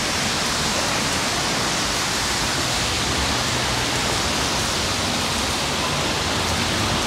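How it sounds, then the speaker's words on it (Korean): Steady rain falls in Fukuoka, Japan, a dense, even hiss of drops that stays constant and fairly loud throughout, with no voices. "어떻게 첫날부터 비가 오네요."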